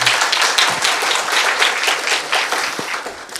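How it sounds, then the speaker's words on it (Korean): An audience at a graduate school admissions information session claps in thanks for a professor, a full, even round of applause that holds steady throughout and fades slightly near the end. "감사의 박수 부탁드리겠습니다"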